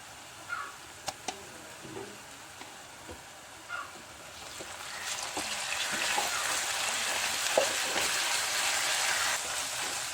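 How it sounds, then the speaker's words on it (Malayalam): Ginger garlic paste goes into a pan of softened, frying ingredients for a Kerala sadhya masala curry. A few quiet clicks and taps come first, then a louder, steady sizzle swells up and continues to the end. "ഇനി നമുക്ക് ഇതിലേക്ക് കുറച്ച് ഇഞ്ചിയും വെളുത്തുള്ളി പേസ്റ്റ് ഇട്ട് കൊടുക്കാം"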